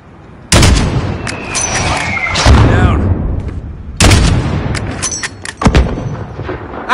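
Enemy gunfire and mortar blasts in Call of Duty Modern Warfare, loud booming impacts with sharp cracks of shots scattered across the scene, heavy hits near the start and midway, over constant battlefield rumble.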